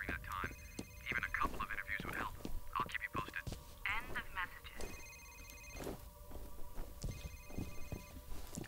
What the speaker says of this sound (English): Where's this phone coming from?